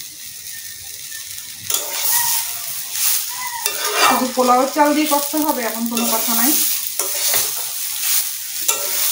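Rice is stirred and sautéed in a pot for biryani, with a scraping spoon and a light sizzle close by, while someone talks over the cooking.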